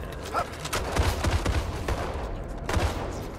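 Uzi submachine gun fire in a multiplayer shooter game, bursts of rapid sharp shots in clusters with short gaps between them, close and loud over a busy background.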